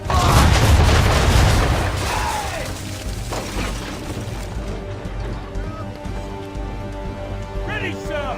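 Ship cannon broadside roaring in Assassin's Creed III, a heavy booming burst at the start that rolls into a long rumbling tail of crashes and splashes, with shouted orders over the din.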